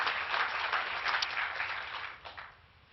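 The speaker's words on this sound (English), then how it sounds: "So I'd like to give a big applause to the team owners and my team for getting us to this point." Audience applause at a NASCAR announcement of a new charter system, a steady wash of many hands clapping that holds fairly even before fading toward the end.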